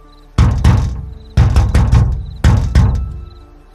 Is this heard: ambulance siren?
no